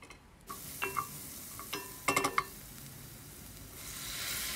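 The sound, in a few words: onions and tomato-pepper paste sautéing in a pan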